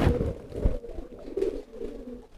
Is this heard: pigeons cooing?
yes